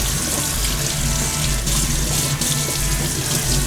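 Celery stalks being rinsed under a running kitchen tap, a steady loud rush of water splashing into a sink throughout, with no talking.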